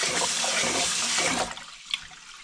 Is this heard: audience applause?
no